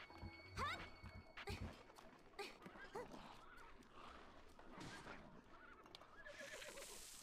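A horse in a Zelda video game neighs, its whinny rising over busy game sounds and scattered effects, with brief hoof clatter and a short moment of talk nearby.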